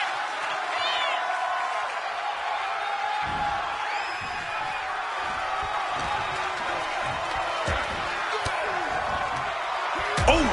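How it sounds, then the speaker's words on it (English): A WWE video game wrestling arena crowd roars steadily throughout, a dense wash of cheering and whoops with occasional thuds from the ring beneath a commentator's voice. "The WWE Universe is showing their appreciation for the action they're seeing."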